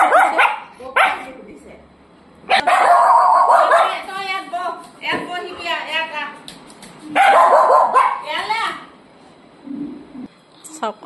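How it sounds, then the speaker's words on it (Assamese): A mother dog barks again and again at nearby people, loud and close, in long bursts of sharp barks mixed with yips and whimpering whines. "আমাক দেখি কেনেকুৱা কৰি আছে ভুকিয়া আছে একেৰাহে"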